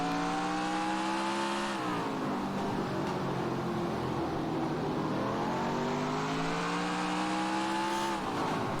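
Modified race car engines in the NASCAR Racing 2003 video game at Riverside Park Speedway, a loud steady droning whine that shifts pitch as cars brake and accelerate through the corners, with no voices.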